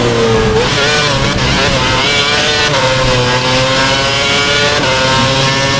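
Loud, sustained whine of an F1 car engine at the 2011 Canadian Grand Prix in the F1 2011 racing game, holding high revs with small pitch dips and climbs through gear changes, close and continuous.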